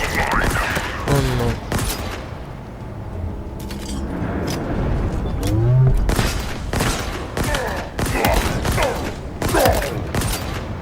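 Rapid bursts of gunfire in a Halo Infinite battle ring out in clustered volleys with thumps and booms, loud and close, separated by brief lulls.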